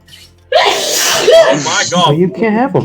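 A single sharp, loud sneeze bursts out close by during a tabletop Dungeons & Dragons play session, followed right away by people talking.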